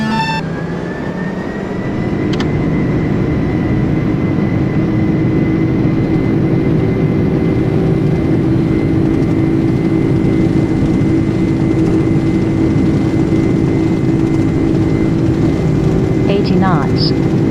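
Airplane engine roaring at full throttle for takeoff in Microsoft Flight Simulator, a loud, steady drone holding at one pitch throughout, with a brief electronic beep early on.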